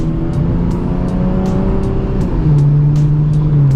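A Ford AU Falcon on the road, its engine droning loud and close at a steady hum with a slight rise in pitch and some road noise, without talk.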